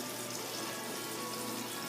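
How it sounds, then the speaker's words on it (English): Fresh filtered water runs into a large stock pot for making chicken stock, a steady, hissing pour that stays even and continuous for a couple of seconds, soft and close, with no talking. "Fill it with water."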